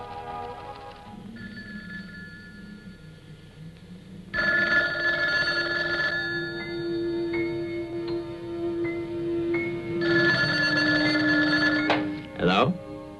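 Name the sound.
telephone bell ringing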